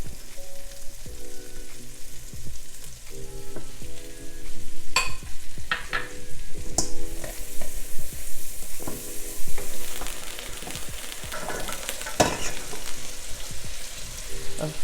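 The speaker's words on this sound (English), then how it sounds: "I'm gonna go ahead and add in the garlic" Onion and garlic frying in reserved bacon oil, a steady, close crackling sizzle throughout with repeated scraping and stirring, no talking.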